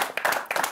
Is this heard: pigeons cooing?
no